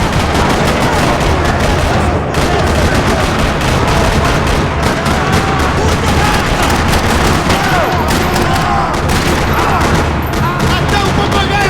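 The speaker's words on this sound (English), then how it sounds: "Another parking lot rattling with gunfire." Dense, continuous video game gunfire in a parking lot rattles throughout, with rapid automatic bursts and booming shots layered into a loud, chaotic firefight.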